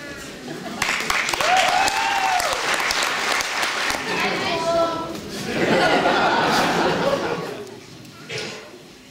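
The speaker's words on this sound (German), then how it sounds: "Begrüßen Sie nun mit einem warmen Applaus die darstellenden Künstler der Friedensauer Tragikomödie" An audience in a hall applauds the performers of an amateur tragicomedy theatre group at a cultural evening, sustained steady clapping with sung or intoned vocal phrases and some chuckling mixed in over it.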